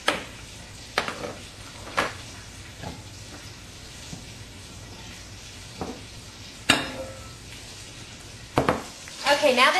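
Pot roast meat sears in a hot skillet with a soft sizzle, broken by sharp clanks and scrapes of utensils and pan, while a person talks.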